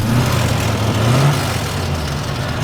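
A Corvette engine with an exhaust leak rumbles at idle just after starting, a loud, steady, close low-pitched drone with a slight wavering pitch and no talk.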